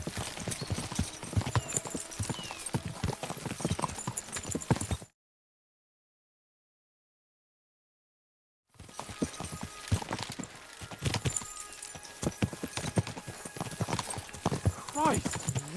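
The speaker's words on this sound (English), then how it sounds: "We should spur the horses on." Horses' hooves clip-clop at pace in the medieval game Kingdom Come: Deliverance II, a steady busy rhythm under speech before a sudden stretch of silence, then resuming with more hoofbeats and talk.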